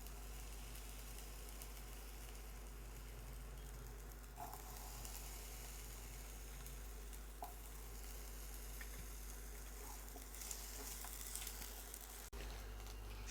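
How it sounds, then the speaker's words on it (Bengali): Small chopped potatoes fry in hot oil with a steady, even sizzle throughout, dotted with a few soft pops and light stirring clicks. "তেল গরম হয়ে গেছে আমি তেলের মধ্যে দিয়ে দিচ্ছি ছোট করে কাটা আলু"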